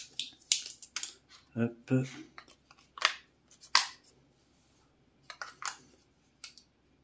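The battery compartment of a Marantz SR7015 remote control is opened with a quick run of close plastic clicks, snaps and scrapes. A voice briefly speaks among them.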